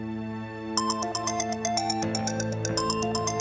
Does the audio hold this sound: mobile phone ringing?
yes